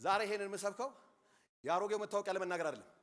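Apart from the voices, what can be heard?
No distinct noise like a dog, phone or traffic.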